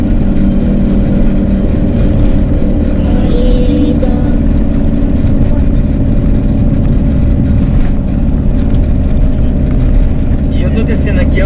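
A truck engine drones steadily while descending a highway grade at about 80 km/h, a loud, continuous low rumble heard from inside the cab with no break.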